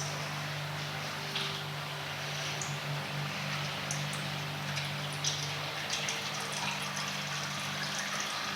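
Engine oil drips and trickles steadily out of an all-black Camaro Z28 during an oil drain, a faint, continuous liquid patter over a low background hum.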